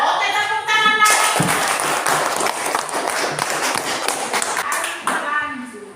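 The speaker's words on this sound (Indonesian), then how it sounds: "tepuk tangan lagi" A class of schoolchildren claps together in a loud, close, uneven burst that lasts several seconds, with voices rising over the clapping and sung tones at the start and end.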